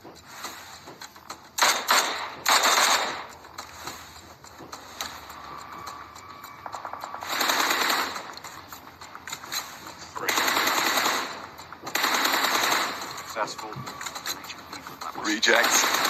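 Rapid bursts of automatic gunfire in PUBG Mobile at a global championship event come in several loud clusters, with a commentator talking over much of it.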